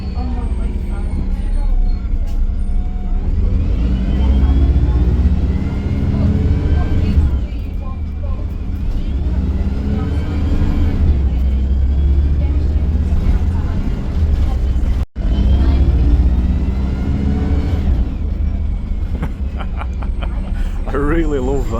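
A Stagecoach MAN-engined Enviro300 bus pulls away, its engine droning loudly and rising through gear changes with heavy low rumble, while someone talks excitedly over it nearby.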